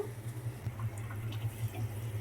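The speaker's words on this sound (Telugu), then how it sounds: "ఇప్పుడు కొంచెం వాటర్ యాడ్ చేసుకుందాం దీంట్లో" Water trickles into egg curry in a cooking pan, a soft, quiet, continuous pour over a low steady hum.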